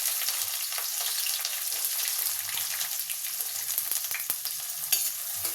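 Onion and green chillies frying in hot oil with mustard seeds and cumin, a dense, steady hiss and crackle up close with small pops scattered throughout and no talking.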